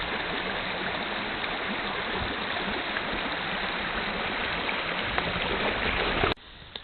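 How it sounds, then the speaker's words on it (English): Mountain streams in an alpine valley near Flower Springs Lake in the Canadian Rockies rush and gurgle in a loud, steady wash that fills the scene, then cut off abruptly at the end. "with the music of the streams all around us"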